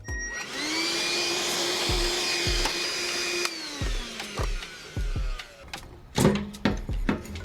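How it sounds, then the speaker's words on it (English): A vacuum cleaner runs close and loud while cleaning out the fuel tank area of a Ford F150 pickup, then winds down, followed by scattered knocks and thumps. "Just really vacuum that out."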